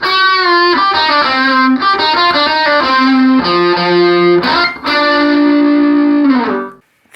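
Electric guitar through a Line 6 DT50 amp with the drive turned up in an AC30-style setting plays loud, overdriven chords and riffs with sustained notes, ending on a ringing chord that cuts off.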